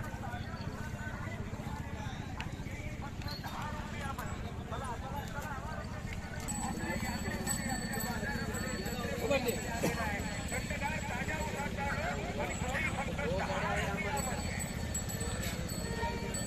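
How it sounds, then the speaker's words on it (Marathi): Bulls trotting on the ground at the Hali cattle market in Latur district, Maharashtra, with steady hoof clip-clop running through a busy, noisy crowd and voices talking over it, faint clinks of bells mixed in. "अशा प्रकारच्या धावणीला बैल येतं."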